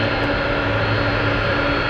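A jet aircraft taking off on runway 33 at Anchorage airport, a steady loud broadband engine roar that holds evenly throughout with no talk.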